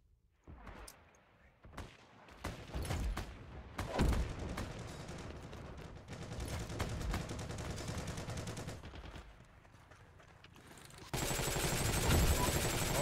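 Gunfire rattles through a Heroes & Generals battle, with scattered single shots early on, then sustained bursts from rifles and a machine gun swelling to a loud, dense volley near the end, with someone talking in places.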